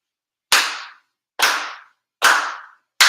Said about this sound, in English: for sincere claps